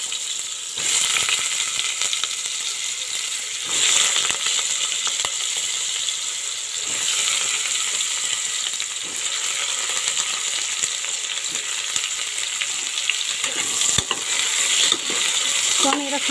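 Bottle gourd pieces fry in a pan, a steady moderate sizzle with repeated scraping and clinking strokes of a spoon stirring, plus one sharp metallic tap, with no talking.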